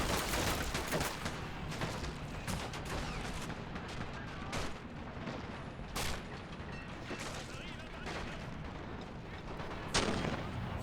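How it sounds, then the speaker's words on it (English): Mortar and gunfire fill a WWII video game battle set in the 1944 Baltic offensive, with sharp booms and shots at irregular intervals over a constant din of combat, while someone talks. "Oh, that's a nice mortar. Is that 120 mil?"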